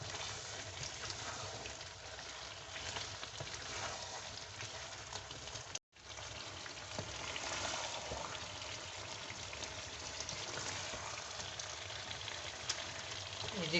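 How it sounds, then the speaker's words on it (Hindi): Karahi gosht masala frying in oil in a restaurant-style karahi, giving a steady, close crackling sizzle throughout with a brief dropout partway through. "तो 5 मिनट मैं और भूनूंगी इसको"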